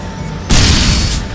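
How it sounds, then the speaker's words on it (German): A bomb blast in the video game Enslaved: Odyssey to the West bursts in loud and sudden halfway through, a broad roaring boom that holds heavy to the end. "Ich werfe noch eine Bombe für ja, dich."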